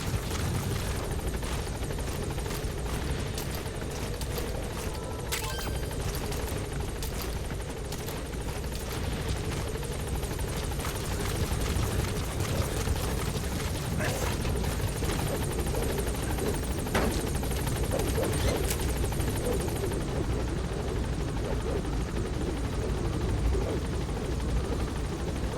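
The Pequod support helicopter in Metal Gear Solid V hovers at a landing zone, its rotor drone steady and fairly loud throughout, joined by game interface bleeps and effects, with no talk.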